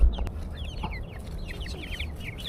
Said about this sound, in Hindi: अभी यहाँ पे 12 मुर्गियाँ आपको नज़र आएंगी